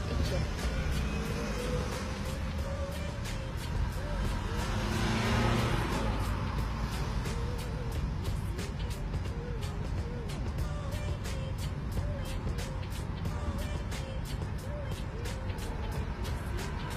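Manual driving-school car pulling away from a stop and shifting into second gear, with a low engine hum and road noise throughout and soft mechanical clicks, while an instructor speaks over it.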